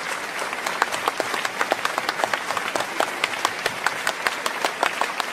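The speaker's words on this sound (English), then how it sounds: "Please stop clapping." A crowd claps steadily and enthusiastically, dense continuous applause with sharper individual claps popping out throughout.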